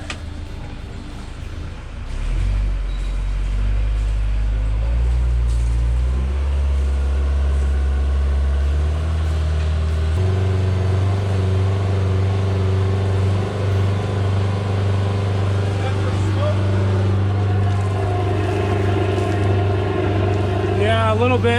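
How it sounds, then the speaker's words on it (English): Volvo Penta boat engine, a jury-rigged repair with a stripped bolt, restarts and revs loudly. A steady low drone climbs in steps and holds high through the clip, with voices talking over it. "we got the fuel going, but we stripped the bolt, so let's rev it up."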